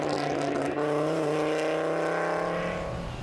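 Audi Quattro rally car at the Skibbereen Fastnet Rally, its engine droning loud and close with a steady harmonic growl that holds for a few seconds before easing slightly, no voices.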